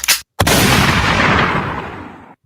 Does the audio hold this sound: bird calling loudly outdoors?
no